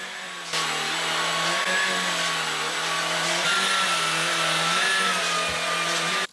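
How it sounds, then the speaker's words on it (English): A vacuum cleaner runs steadily as carpets are given a thorough hoover, a loud continuous motor whine and airy rush with slight pitch shifts as it moves, starting abruptly and cutting off at the end. "I'm just going to go over all of the carpets and give them a really thorough hoover"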